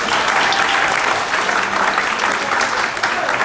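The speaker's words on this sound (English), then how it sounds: "So give them a big round of applause." A dense round of applause from the audience at a community housing meeting, steady and loud throughout without a break.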